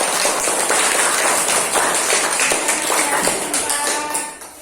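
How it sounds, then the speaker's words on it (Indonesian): Indonesian schoolchildren clap for a classmate in class, a loud, dense patter of many small hands that carries on steadily and tapers off at the end, with a few voices underneath. "Ya, tepuk tangan untuk teman kita."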